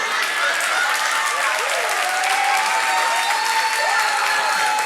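A church congregation applauds during a Spanish-language sermon, a dense, sustained clapping from a large audience that fills the room evenly, with some voices mixed into the crowd noise.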